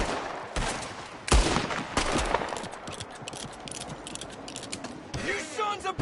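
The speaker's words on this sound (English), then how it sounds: "another one shooting from the window" Gunfire in Red Dead Redemption 2, with several sharp shots and bursts scattered across a busy game soundscape, some loud and close, others lighter, while voices talk over the action.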